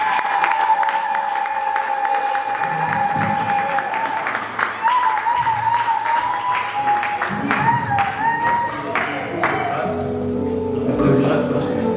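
Wedding guests at a Congolese wedding applauding, a sustained wash of clapping from a large crowd that continues for the whole stretch, with cheers and voices mixed in.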